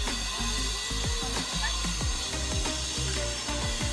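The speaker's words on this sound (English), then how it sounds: "so we are drilling over there" Construction drilling near a hotel restaurant in Costa Teguise, Lanzarote, heard as a steady rough whir with repeated low knocks running through the whole stretch, mixed with indistinct voices.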